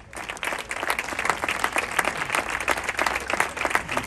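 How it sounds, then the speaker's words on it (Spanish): An audience at a wine gala in Quintanar claps for the town's mayor, producing a sustained, dense round of applause from a crowd that stays steady throughout. "Un fuerte aplauso también para él."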